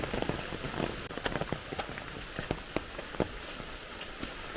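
Steady rain falling, with scattered sharp drops tapping nearby on a hard surface over a constant wash of noise.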